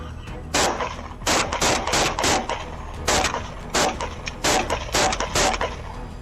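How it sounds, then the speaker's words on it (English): Bursts of rapid gunfire crack out repeatedly in irregular volleys, loud and close, with short pauses between them. "Gunfire erupted again from both sides."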